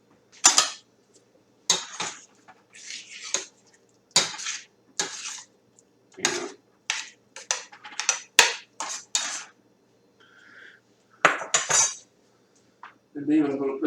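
Food for a taco bowl is stirred in a low skillet with a metal utensil, producing a series of short, sharp scraping clanks in irregular bursts with quiet gaps between them.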